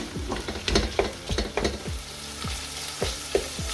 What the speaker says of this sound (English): now we're gonna go in with the pork mince